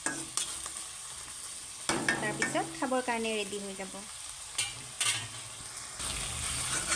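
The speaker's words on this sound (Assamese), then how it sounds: "1 মিনিটমান এনেকৈ লৰাই ভাজি থাকিব লাগিব" Chicken frying and being stirred in a pan, a steady sizzle with scraping stirs throughout, while someone talks over it.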